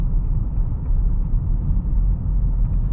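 A 2022 Land Rover Defender SE X-Dynamic rolls over a bumpy road, heard from inside the cabin as a constant low rumble of road and tyre noise with no talking.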